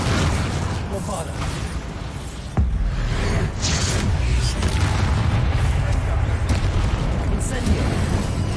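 A Bombarda blasting spell detonates in Hogwarts Legacy, a dense, roaring explosion with a sharp burst near the middle followed by sustained rumbling chaos of battle.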